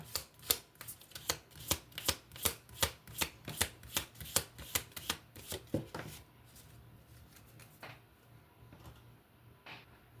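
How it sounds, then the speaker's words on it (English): Tarot cards are shuffled close by in a quick series of crisp riffling snaps, about fifteen sharp bursts in the first six seconds, then a few sparser, softer handling sounds in a quiet room. "I was shuffling the cards"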